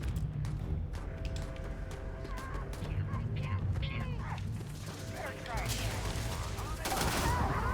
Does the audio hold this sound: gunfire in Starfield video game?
yes